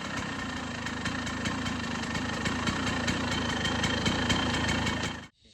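A KTM EXC 250 enduro motorcycle engine runs steadily near the listener, with a rapid rattling two-stroke pulse that holds level before cutting off abruptly at the end.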